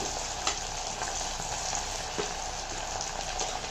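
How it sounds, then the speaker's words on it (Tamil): Colocasia (seppankai) pieces deep-fry in hot oil, a steady, even sizzling hiss with faint pops throughout, close and uninterrupted, no voices. "இப்போ இது நல்லா பொரியட்டும் பார்க்கலாம்"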